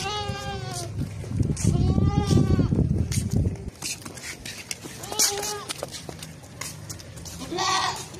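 A Makhi Cheena desi goat from Pakistan bleats loudly and close by in a few long wavering calls, with someone talking over and between them and another fainter bleat near the end.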